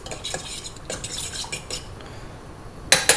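Fork stirring a warm yeast mixture, making light, rapid clinks and scrapes against the container, ending with two sharper metallic taps.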